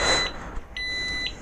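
A Xena XX14 Bluetooth disc lock alarm on a motorcycle sounds with shrill, high electronic beeping tones, a steady loud tone broken by brief pulses, set off by a touch to the handlebar.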